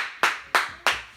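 A church congregation claps in unison at a steady beat, four sharp claps close together.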